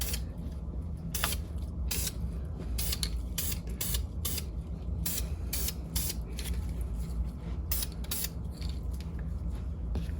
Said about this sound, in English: I'm going to run a quick little test run with the spray can.